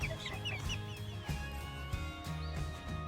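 Several pet chickens cluck and murmur close by in a short, busy burst of overlapping calls, with no talking.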